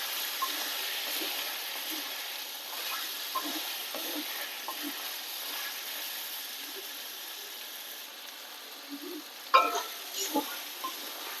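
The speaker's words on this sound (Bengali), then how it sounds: "আর দিয়ে দেব চিনি। ভালো করে কষিয়ে নেব।" Chicken chaap masala, with sugar added, is stir-fried in a pan. A steady sizzle runs throughout, with soft scraping stirs and a brief louder clatter near the end. No one speaks.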